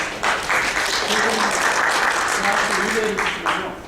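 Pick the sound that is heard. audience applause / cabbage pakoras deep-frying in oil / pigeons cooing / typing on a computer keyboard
audience applause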